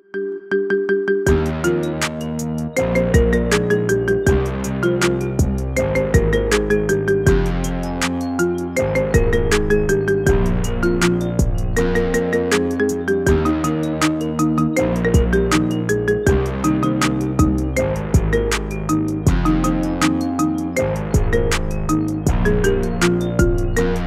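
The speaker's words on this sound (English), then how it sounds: "Get this cool ringtone for your phone now." A bright iPhone marimba ringtone remix plays loud and continuous, with quick repeated mallet notes in a looping pattern.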